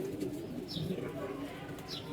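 Pigeons in a loft give low, murmuring coos, close and fairly quiet, with a couple of brief higher chirps mixed in.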